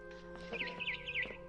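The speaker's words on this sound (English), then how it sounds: "Then I heard chirping outside my window." Faint, high bird chirps in a video game repeat a few times over a steady electronic hum, quiet and brief.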